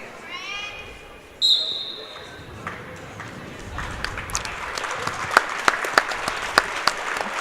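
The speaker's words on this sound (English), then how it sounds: "Round of applause throughout the gym here for this tough young lady." Applause spreads through a gym for an injured wrestler after a sharp thump; scattered claps build into steady clapping with a commentator's voice over it.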